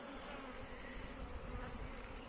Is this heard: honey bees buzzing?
yes